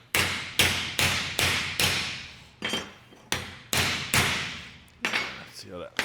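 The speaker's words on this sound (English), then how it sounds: "It's my fresh new hammer." Repeated loud hammer blows on metal, about a dozen ringing strikes in a steady rhythm, each decaying with a metallic ring, close by.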